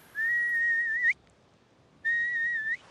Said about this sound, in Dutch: Je moet 3 keer 1 seconde fluiten voor de oproep.